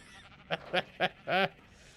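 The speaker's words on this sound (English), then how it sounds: "she feeds all the sheep down in here" Sheep in the survival game ARK bleat four times in quick succession, the last call longer and wavering, fairly close and clear against a quiet background.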